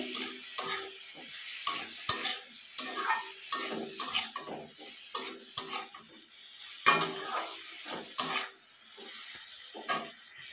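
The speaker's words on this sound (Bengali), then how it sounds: "হলুদের গুঁড়ো দিয়ে দিলাম। দিয়ে একটু ভালো করে নাড়াচাড়া করে নেব।" Turmeric powder is stirred into frying masala in a pan for katla fish curry with potatoes. A spoon clinks and scrapes against the metal pan in uneven bursts over a soft sizzle, close and fairly quiet.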